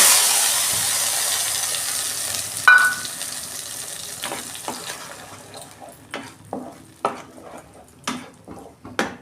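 Nigella seeds and a spice paste dropped into hot oil, starting as a loud hissing sizzle that fades, then broken by a sharp clatter and a series of stirring scrapes and clanks against the pan.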